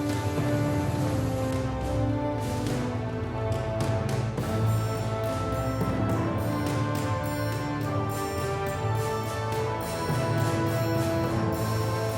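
A waterfall crashes down directly onto a temple at Dhareshwar, Maharashtra, a dense, continuous roar of pouring and splashing water, loud and unbroken like heavy rain.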